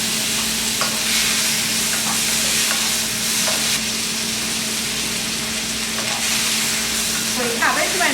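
Sesame oil, oyster sauce and soy sauce sizzle hard in a hot pan, a loud, continuous hiss and crackle with occasional stirring scrapes, close up throughout.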